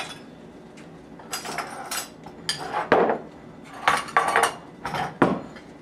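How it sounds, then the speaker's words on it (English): Apple tart mixture tipped from a metal pan into a small strainer: a run of bright clanks, scrapes and clinks, irregular and near, with no voices. "I'm going to put it into a little strainer."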